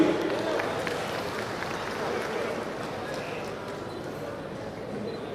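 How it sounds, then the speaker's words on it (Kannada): Sustained applause from a stage ceremony audience as beneficiaries come up to receive title deeds at a government event in Davanagere district; dense, steady clapping fills the space, with voices mixed in. "ಜೋರು ಚಪ್ಪಾಳೆ ಬರಲಿ"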